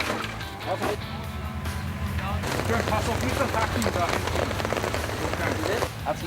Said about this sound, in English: The rain is real and, fortunately, brief.